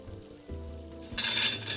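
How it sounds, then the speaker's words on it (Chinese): Cubes of tofu deep-frying in plenty of very hot oil over high heat, a soft bubbling that swells into a loud, dense, steady sizzle, close up with no talking. "高温多油炸个15秒即可离火"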